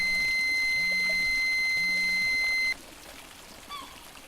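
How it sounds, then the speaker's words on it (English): A RadEye radiation detector sounds its second alarm: a run of fast, evenly spaced electronic beeps, loud and close, that stops sharply partway, leaving quiet room tone. "The second alarm will have a fast blinking LED and sound like this."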